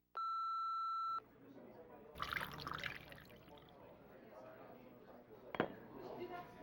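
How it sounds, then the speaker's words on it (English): An answering machine plays a single long, loud electronic tone that holds for about a second, followed by faint room noise and muffled sounds. "leave your message after the beep."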